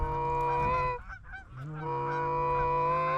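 Geese honk in flight overhead during a field hunt, a loud, close chorus of repeated calls that dips briefly in the middle and then swells again, with no talking.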